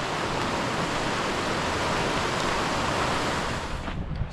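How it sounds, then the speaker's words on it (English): The wild South San Joaquin River rushing through a canyon at sunset: a steady, loud broadband roar of flowing water with no break, easing slightly at the very end. "South San Joaquin River in the background."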